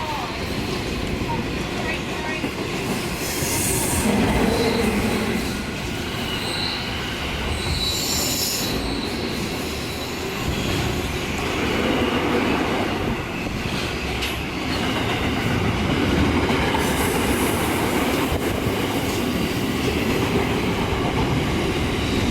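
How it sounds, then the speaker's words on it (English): Train hauled by NR class locomotives passing through Koolewong station in New South Wales, wheels squealing and rumbling continuously at close range, with a station announcement over the top. "Passing, leading loco is NR23, followed by NR105."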